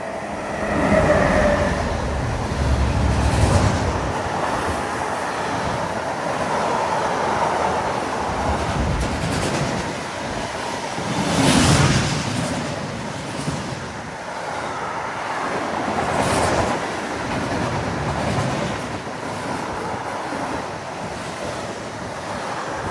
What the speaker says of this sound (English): a BR-193 Vectron hauling a container train